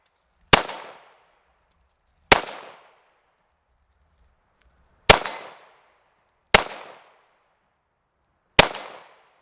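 Five sharp pistol shots from a Ruger 57 and an FN Five-seveN, spaced irregularly a second or two apart, each a loud crack with a quick ringing decay into near silence.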